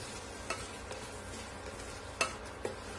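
Diced capsicum sizzles faintly in a pan of potato masala as a spoon stirs it, with a few soft scrapes and clinks against the pan.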